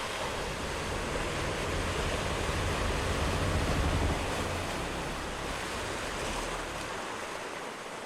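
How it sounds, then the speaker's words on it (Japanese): Cold Atlantic seawater washes against the wooden hull of a sailing ship, heard from just inside the planking as a steady, dense, rushing surge that swells slightly and then eases, with no voices. "波が船腹をなでる音がここでは木の壁を隔ててすぐ真横に聞こえます"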